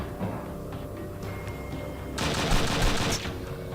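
Gunfire in the video game Übersoldier: a steady rumbling game soundscape, then a loud, dense burst of shots lasting about a second toward the end.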